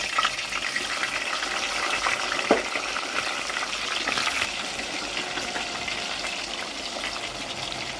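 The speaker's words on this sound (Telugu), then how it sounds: "ఇలా వేసుకొని ఇది శుభ్రంగా దూరగా వేగాలి" Fish pieces frying in hot oil in a pan, a loud steady crackling sizzle that runs throughout, with a single brief knock partway through.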